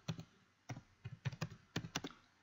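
Quiet typing on a computer keyboard, a quick irregular run of soft key clicks in small clusters, heard alone and close.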